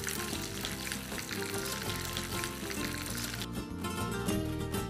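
Spicy chicken wings deep frying in oil give off a dense, constant sizzle, with music playing loudly alongside throughout.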